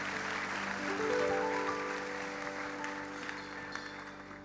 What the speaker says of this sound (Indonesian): Sekali lagi beri tepuk tangan untuk Tuhan kita.